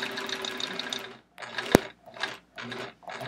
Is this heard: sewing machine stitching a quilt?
yes